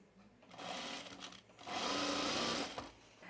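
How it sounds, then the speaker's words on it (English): A sewing machine stitching binding onto a pocket with a quarter-inch seam, two bursts of rapid mechanical whirring with a short pause between, the second run longer and steadier. "we're going to sew it to the pocket with a 1/4 inch seam"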